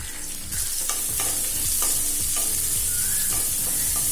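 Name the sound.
frying green chillies, dried chilli and chopped onion in a pan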